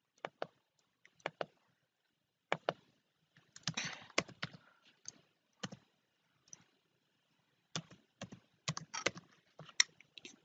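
Bursts of typing on a computer keyboard while designing a graphic in Canva, clicking keys in short quick clusters separated by pauses, close and fairly quiet with no voices.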